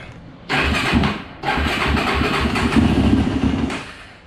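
A cold engine that had been hard to start cranks briefly, catches, cuts out and then fires again into a loud, steady, slightly rough running idle close by, with no speech.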